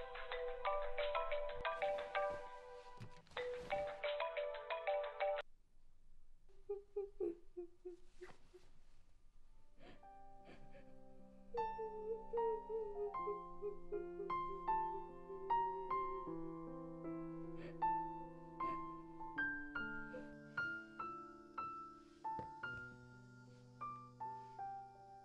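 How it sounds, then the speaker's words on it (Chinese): A mobile phone ringtone plays a dense repeating melody for several seconds, then stops, followed by a softer tonal melodic passage of music. "你电话一直在响哎"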